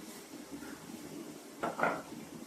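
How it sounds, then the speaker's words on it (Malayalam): Opening a pot of chicken curry and stirring it, heard as two brief clattering knocks of lid and utensil against cookware late in the clip over a quiet kitchen background. "നമ്മളത് തുറന്ന് ഇളക്കി കൊടുക്കുകയാണ്."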